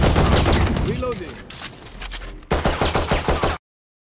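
Rapid bursts of gunfire from the Valorant video game, a dense stretch of shots followed by a crisp, evenly spaced volley of about six loud shots before an abrupt cutoff.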